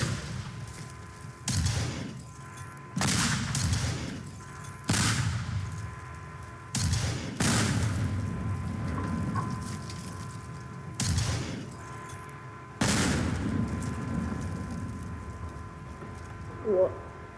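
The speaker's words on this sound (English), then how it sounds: "We need the Doom rocket." A Doom rocket launcher in the destruction game Teardown fires repeatedly, each shot a heavy booming blast with rumbling debris, spaced a second or two apart at moderate loudness, with occasional faint talk.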